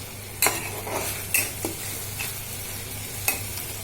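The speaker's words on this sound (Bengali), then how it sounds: "তিন টেবিল চামচ পেঁয়াজ বাটা দিলাম। এটা এখন কষিয়ে নিব" Three tablespoons of onion paste are sautéed in a pan for a dem curry: a soft, steady sizzle broken by a few sharp clinks and scrapes of a spoon against the pan, close up and without speech.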